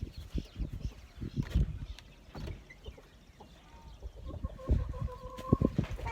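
Hens clucking softly inside a cozy farm chicken coop with nesting boxes, scattered low calls and a few brighter squawks amid light rustling and footsteps.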